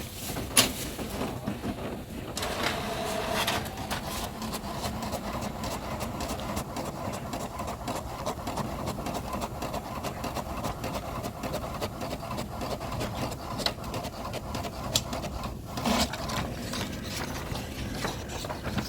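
An HP 4210 inkjet printer that is not printing properly runs a black and white test page, giving a continuous whirring, ratcheting mechanical churn with clicks and gear noise throughout, close by and steady.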